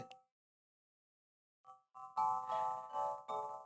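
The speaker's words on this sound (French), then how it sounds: "Ça, on parle d'un carillon." A few soft chime tones after a silence, then a bright cluster of ringing chimes swelling and fading, with no voices.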